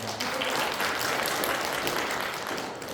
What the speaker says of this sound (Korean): 함께 모두를 위해서 박수 한번 쳐드리겠습니다